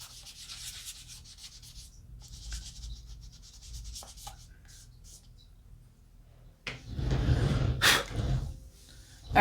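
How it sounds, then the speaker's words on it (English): A purple sponge rubs and smooths pastel colours across paper in a colouring page, soft close scrubbing strokes growing louder and denser toward the end. "I'm just going to take the clean side of my purple sponge and just kind of rub these colors together a little bit more, smooth them out."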